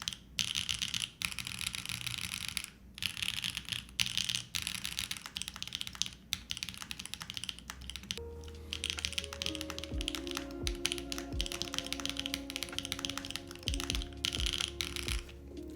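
Close, soft mechanical key clacks from typing on a Delta50 50% keyboard built with no foam, tapping at an uneven pace, joined partway through by a few faint sustained tones in the background.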